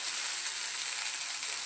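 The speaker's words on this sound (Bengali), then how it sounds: "ছোট মাছগুলো ভাজা হয়ে গেছে, তুলে নেব। কত সুন্দর মুচমুচে ভাজা হয়েছে।" Small fish sizzle in hot oil, frying into a crisp finish, with a steady, bright, even hiss that holds level throughout without pause or talk.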